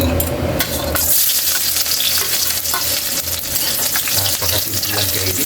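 Garlic fries in hot oil, a loud dense sizzle up close with scattered stirring clicks against the pan that keep going throughout.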